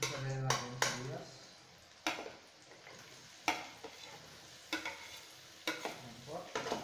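Onions sauté in a pan for chicken adobo, a faint sizzle under repeated sharp scrapes and knocks of a spatula against the pan at irregular intervals, with a voice talking briefly at the start.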